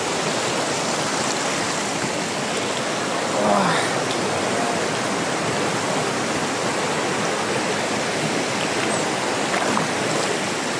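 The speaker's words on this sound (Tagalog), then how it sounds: "medyo malakas yung agos, oh" Strong river current rushing at a bathing spot in Clarin, Misamis Occidental, a loud, steady broadband wash of flowing water close by, with a faint voice briefly audible.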